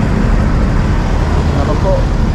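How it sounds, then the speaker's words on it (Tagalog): Busy road traffic in a town centre makes a loud, steady rumble of passing cars and heavier vehicles, a continuous close wash of engine and tyre noise with faint voices mixed in. "Matraffic."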